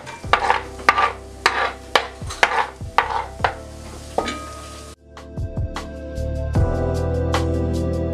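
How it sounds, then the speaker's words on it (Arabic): Onion sizzles and fries in butter in a cooking pot as a spoon stirs it, with repeated scraping knocks against the pot over a steady frying hiss that grows denser toward the end. "احنا شعلنا على بعد ما شعلنا على الطنجره ديالنا، غنعملوا هذه معلقه الزبده، نزيدو عليها البصله باش تشحل لينا"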